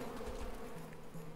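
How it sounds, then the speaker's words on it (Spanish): Buzzing of a queen drill wasp boss in the video game SteamWorld Quest: Hand of Gilgamech, a steady low insect drone running unbroken and fairly faint for the whole moment, with no talk. "esto es el boss, que es la abeja"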